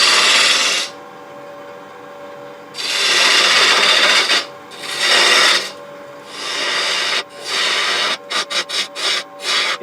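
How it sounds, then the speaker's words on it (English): A half-inch lathe gouge rough-shapes a wooden clamshell box, cutting in loud rasping bursts separated by short pauses and ending in a quick run of brief, choppy cuts. "let's just start rough shaping it a little bit by just taking off some of this wood"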